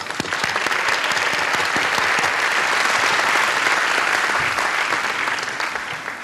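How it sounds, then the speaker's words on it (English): An awards ceremony audience gives a round of applause for the honored companies, a full, loud bed of many hands clapping with scattered sharper claps, holding steady before tapering slightly at the end. "So let's give each of the companies a round of applause."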